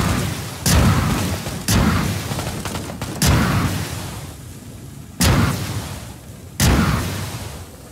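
Heavy booms of gunfire and artillery in the video game Just Cause 4 land one after another, five loud blasts spaced about a second or two apart, each trailing off into rumbling decay.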